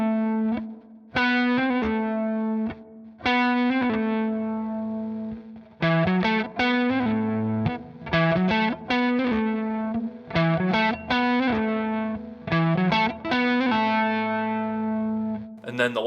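A distorted electric guitar plays a quick solo line with rapid pull-offs, notes cascading in bursts separated by brief pauses, loud and close.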